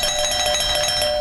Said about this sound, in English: I'll bring you in one at a time with the doorbell